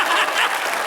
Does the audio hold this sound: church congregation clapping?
yes